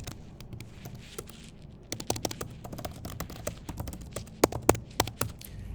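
Rapid, irregular key taps from a computer keyboard, close by, with a few louder strokes near the end and no talking.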